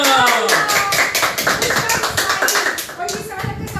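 Applause from a studio audience on a children's TV show, dense rapid clapping from many hands, loud and close, with voices talking over it throughout.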